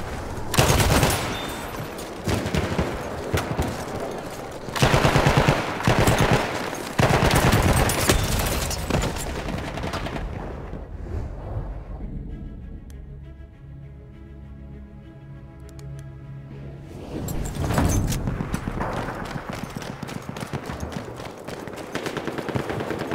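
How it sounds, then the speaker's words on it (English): Bursts of machine gun fire in the video game Battlefield 1, loud and rapid, with dense volleys repeating over several seconds, a brief quieter stretch of other battle sounds, then more heavy firing. "Machine gun! Watch it, boys!"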